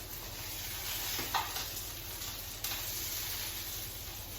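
Chicken skin frying and crisping in a pan, a steady close sizzle with a couple of brief clicks or stirring knocks and no talking.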